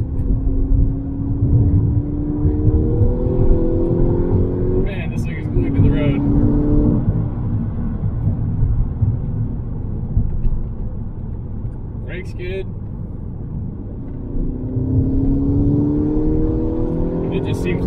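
A 2011 VW GTI accelerates hard from inside the cabin, its engine note climbing through the gears in several rising sweeps with brief dips at each shift, loud and continuous throughout.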